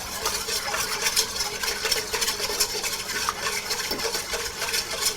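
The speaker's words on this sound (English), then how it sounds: "I'm going to give this a mix" A spoon works through a chicken Marbella marinade seasoned with plenty of black pepper, giving a steady, close wet stirring and scraping that runs without a break, with no talking.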